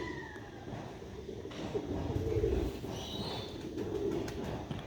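Pigeons cooing on a rooftop loft in Sialkot, soft low coos heard faintly at a distance over a quiet background hum, with a few higher bird chirps scattered through.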